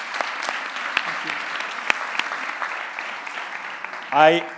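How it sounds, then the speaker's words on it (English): Conference attendees at the close of a plenary session on agriculture applaud the presenters with steady, moderately loud clapping from a roomful of people, and a voice comes in briefly at the end. "Please join me on a big applause to the presenters."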